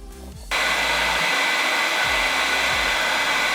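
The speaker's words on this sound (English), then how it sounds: "this is where it says to use the blow dryer" A hair dryer switches on and runs at a loud, steady whoosh close by, heating a phone skin, with no voices.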